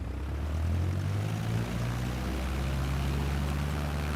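A propeller airplane engine hums steadily and fairly loud as the aircraft takes off after a landing, a low droning tone holding throughout with no talking.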